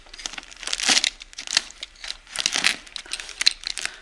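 Plastic packaging of a FlySky FS-i6 radio transmitter crinkles and rustles in repeated close bursts as it is handled and opened, with no talking.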